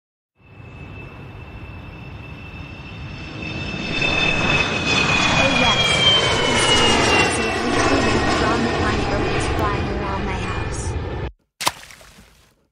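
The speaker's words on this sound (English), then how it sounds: "Hey look, a plane is flying toward us." An airplane approaches and passes overhead, its engine roar swelling from faint to loud and holding steady, with a descending whine, before cutting off abruptly; voices talk over it.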